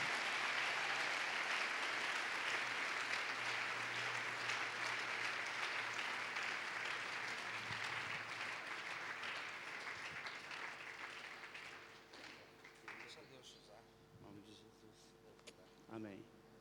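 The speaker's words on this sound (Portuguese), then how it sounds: "Vamos aplaudir pela vida dele." A church-style gathering breaks into loud, sustained applause that slowly fades over about twelve seconds. Scattered voices and a few last claps follow as it dies away.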